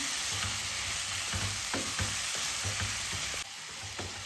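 Potatoes with spices crackle and sizzle in a pan for aloo matar, a continuous frying hiss punctuated by repeated scraping and clicking stirs at a close, even level.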